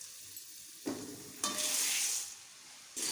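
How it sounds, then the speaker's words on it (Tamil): Puffed rice for spicy kara pori is tipped into a pan with turmeric and spices and stirred, making a soft sizzle broken by quick rustling, scraping bursts of grains being tossed. "பொரி எடுத்து கொட்டி நல்லா கலக்கலாங்க."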